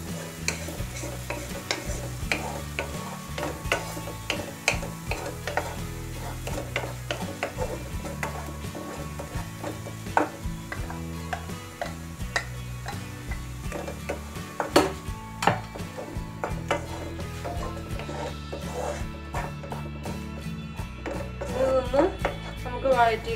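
Ground paste for matar paneer being stirred and fried in a pan, with steady spoon scrapes and clinks against the metal over a soft sizzle, while a person talks throughout.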